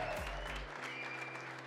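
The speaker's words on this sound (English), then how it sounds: "Big round of applause for Helen." Applause from an audience at an Excel competition semi-final greets a contestant, steady clapping that rises as a low rumble fades out.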